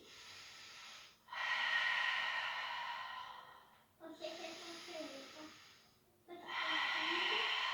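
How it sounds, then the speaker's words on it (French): Slow thoracic breathing while holding a plank, with long, steady hissing inhales and exhales close to the mic. Three drawn-out breaths come in separate bursts, split by short pauses. "Respiration thoracique."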